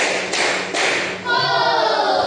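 A classroom of students claps in rhythm for the Indonesian "tepuk 1, 2, 3" clapping routine, with dense, loud clapping that starts and stops in short bursts.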